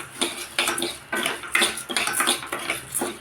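Moong dal and sago being roasted in ghee in a pan, a steady rustling, scraping stir with repeated pulses of spatula strokes, close and fairly loud, no talking.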